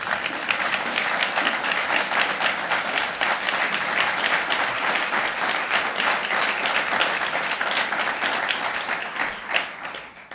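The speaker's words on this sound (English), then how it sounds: "give a big round of applause to the candidates, Republican General Jack Bergman and Democra" An audience at a congressional district candidate forum gives sustained, loud applause for the candidates, a dense crowd clapping that holds steady and then fades near the end.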